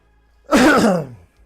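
A single short, harsh throat-clearing cough, close and loud, following near silence.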